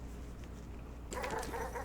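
Dogs in the video game Animal Well give a short burst of yapping and barking that starts suddenly partway through, after a quiet, droning stretch.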